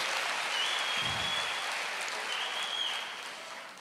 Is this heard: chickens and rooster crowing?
no